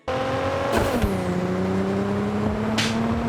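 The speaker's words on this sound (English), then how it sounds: "and cars roar just how they should." A loud car engine in the video game Cyberpunk 2077 roars and revs steadily, with pitch dropping as it shifts, plus a brief squeal-like burst near the end.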